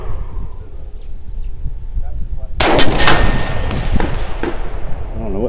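Single sharp rifle gunshot aimed at a target on a range while testing a new scope and loads, a sudden loud crack midway followed by a decaying echo, after a quiet stretch.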